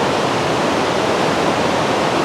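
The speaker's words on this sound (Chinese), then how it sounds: "我们在这个地方看一下这个河流" An underground river rushes through Tenglong Cave, a loud, dense, unbroken roar of churning water heard up close with no voices.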